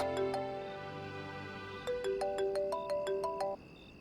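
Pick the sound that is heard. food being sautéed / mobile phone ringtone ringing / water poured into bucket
mobile phone ringtone ringing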